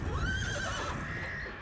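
Horses neigh in a long, loud, wavering whinny that rises and then trails off, heard close up over a rough, noisy background with faint hoof clatter.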